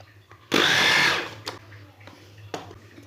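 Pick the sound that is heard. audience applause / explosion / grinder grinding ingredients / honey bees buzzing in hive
grinder grinding ingredients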